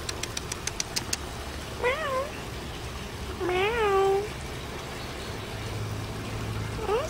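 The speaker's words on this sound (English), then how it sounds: "so here's my kitty." An indoor house cat meows three times, drawn-out close calls spaced a second or two apart, with a faint engine-like hum in the background and a few light taps at the start.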